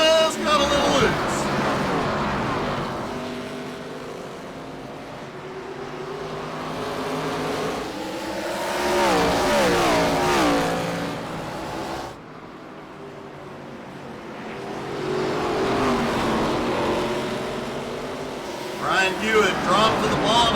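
ARCA race cars racing at Irwindale, their engine roar rising and falling in long sweeping waves as the pack passes, loud and continuous beneath race commentary.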